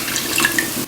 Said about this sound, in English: And now I'm going to add water halfway up the ribs.